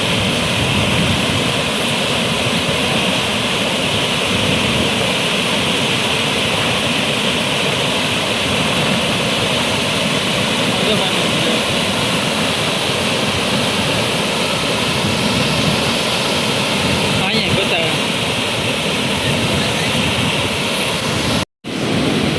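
Water flows at Malan dam, a loud, unbroken rushing roar that holds steady throughout, with no voices heard.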